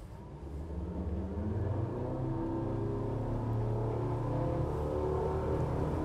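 A roughly 6,000-pound boat with twin 200-horsepower variable-cam-timing inline-four outboards accelerating, a steady rising drone and rumble that builds and holds loud and close, with no talking.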